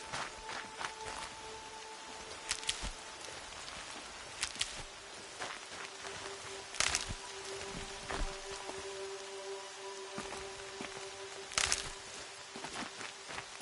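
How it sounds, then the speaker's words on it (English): Steady rain falling in the video game Horizon Zero Dawn, a constant hiss of drops on the ground with scattered footsteps and faint tones from the game underneath, and no one talking. "More rain. My boots will get damp."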